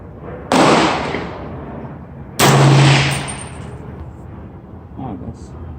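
An AR-15 rifle firing 300 Blackout at a target 100 yards away: two loud, close shots about two seconds apart, each followed by a long rolling echo, then a faint sound afterward.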